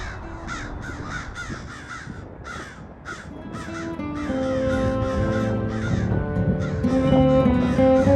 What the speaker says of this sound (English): Hawk and two crows.